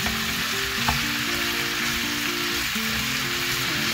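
Curry ingredients sizzle loudly as they are stir-fried in a pan, a dense and continuous crackling hiss like rain, heard up close and steady throughout with no speech.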